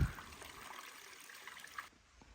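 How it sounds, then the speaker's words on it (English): Curry Creek flows well along a hiking trail, a soft steady trickle and gurgle of running water heard up close with no talk over it. "This is a nice water source. It's Curry Creek. It's flowing very well."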